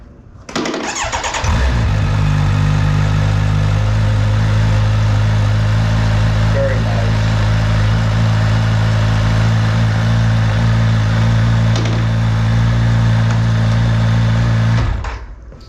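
A Kawasaki Ninja 1100SX sport-touring motorcycle fires up and settles into a steady, loud idle for about thirteen seconds before cutting off, with a brief spoken comment in the middle.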